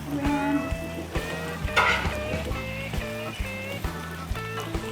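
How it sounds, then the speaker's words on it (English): Onions sizzling on a Blackstone griddle, a steady hiss under repeated rhythmic metallic scraping and tapping from a spatula, close and fairly loud, with some tonal ringing from the cooking. "we're going to put some onions on"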